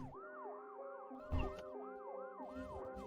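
An ambulance siren wails in fast repeating rising-and-falling sweeps, steady and fairly close, with a brief dull thump partway through.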